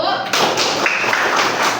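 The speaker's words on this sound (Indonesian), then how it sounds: "Boleh kasih tepuk tangan juga Ibnu." Students in an Indonesian classroom clap for a classmate after his answer, a dense patter of hand claps filling the room at close range, with voices mixed in.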